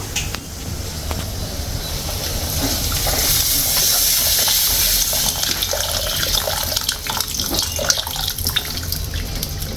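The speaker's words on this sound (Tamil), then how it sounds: "இதில் வந்து இப்போ நம்ம தண்ணி ஊற்றிக்கலாம்" Water poured into a pot of tamarind curry with elephant yam, a steady rushing, hissing splash lasting nearly ten seconds, close and fairly loud.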